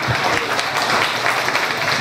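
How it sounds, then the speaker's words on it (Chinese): An audience claps at a formal speech gathering in Malaysia, producing a brief burst of steady, moderately loud applause from many hands. "掌声鼓励"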